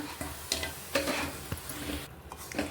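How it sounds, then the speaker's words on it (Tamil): Boiled milk is poured bit by bit into semolina for laddu and stirred, making close scraping stirs and a few sharp clinks against the pan, with a sizzling wet background throughout. "இப்போ இதை வந்து கொஞ்சம் கொஞ்சமாக ஊற்றி ஊற்றி நல்லா மிக்ஸ் பண்ணிக்கலாம்"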